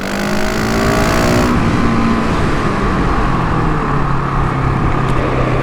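GasGas SM 700 supermoto motorcycle engine while riding on twisty roads, a loud continuous drone with a pitch that falls and shifts as it changes gear, sustained wind rush over it, no voices.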